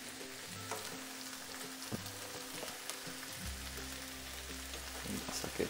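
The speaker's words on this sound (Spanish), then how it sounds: "La echamos en nuestra sartén. Vamos revolviendo." Pasta and vegetables stirred in a frying pan, a soft steady sizzle with light scraping, fairly quiet, with a low hum running underneath.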